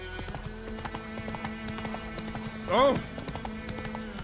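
Horse hooves clip-clopping at a steady gait in The Witcher 3 on PS5, with game music underneath and a short exclamation from a person around the middle.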